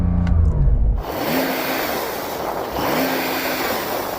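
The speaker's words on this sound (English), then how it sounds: "So I'm going to rev up this 911 TurboS." A Porsche 911 Turbo S being revved while stationary, its engine rising in two loud pulls up toward a soft limiter and falling back between them, heard close with a whirring tone.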